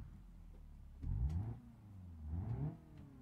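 A Hirochi Sunburst in BeamNG.drive, fitted with a roll cage and racing bucket seats, starts up in the video game. The engine rises in two swells, revving briefly and settling back into a low, steady idle close by, with no talk.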